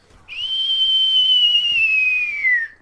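A person whistles a long, sustained descending note, imitating an incoming mortar shell as it falls, loud and alone.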